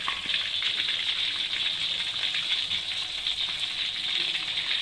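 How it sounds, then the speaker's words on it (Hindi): Fish sizzling steadily in hot oil in a kadhai, a dense, even, close frying hiss with no pauses and no talk. "इसे साइडों पर भी ऐसे करना पड़ता है ताकि ये अच्छे तरीके से यहाँ से फ्राई हो सके।"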